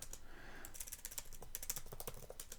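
Rapid clicking keystrokes on a computer keyboard while a post is typed, steady irregular taps at close range with no voices.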